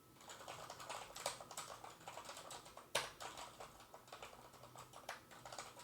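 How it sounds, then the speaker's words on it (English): Someone types random gibberish on a computer keyboard, a rapid, uneven stream of close plastic key clicks with a few sharper, louder strokes and no talking. "try typing something to my Discord. Just random gibberish so I can hear your keyboard"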